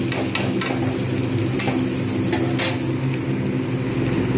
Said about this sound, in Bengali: এর সঙ্গে আমি আলুগুলোকেও ভেজে নেবো